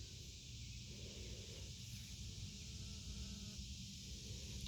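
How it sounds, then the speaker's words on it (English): Bees hum steadily around Agastache Rosy Posy flowers in a summer garden, a faint continuous buzz over soft outdoor background, with no talking. "And the bees love it."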